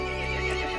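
In the horror video game Resident Evil Village, a horse lets out a short, tonal neigh with a strong, steady harmonic ring. It is brief and moderately loud.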